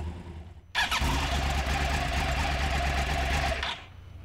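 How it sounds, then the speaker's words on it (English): A Yamaha R1 motorcycle's crossplane-crankshaft engine with uneven firing interval revs hard and loud for a few seconds with a throaty, uneven rumble, then cuts back off. "That's the new uneven firing interval Crossplane crankshaft."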